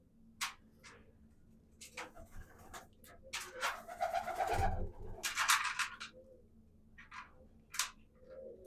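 Soft cooing of racing pigeons close by, several low throaty calls with occasional wing flutters and rustling, no talking.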